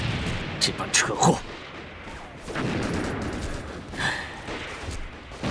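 Scattered gunshots and sharp cracks from a wartime battle in the anti-Japanese war, a few close bursts near the start, then a steadier rumble of distant firing with voices calling out beneath it.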